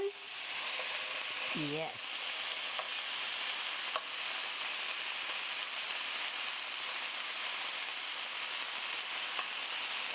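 Blackened fish fillets fry in a hot pan, a steady close sizzle running throughout, with brief speech near the start.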